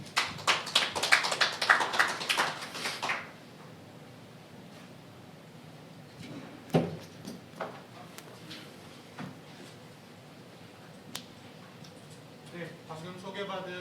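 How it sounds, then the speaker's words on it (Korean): Audience applause opens a Korean policy forum on alternative housing supply and house-price stabilization: a dense burst of clapping for about three seconds that quickly dies away, followed by faint room noise and a few scattered taps. "큰 박수 부탁드립니다."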